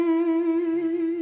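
Stratocaster electric guitar through a strong delay and reverb effect, a single sustained bright note ringing steadily and loud for the whole stretch with a washy echo tail, alone without talk.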